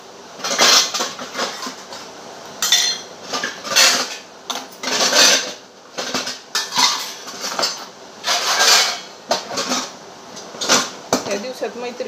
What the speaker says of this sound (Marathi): भांडी लईच पडली होती आज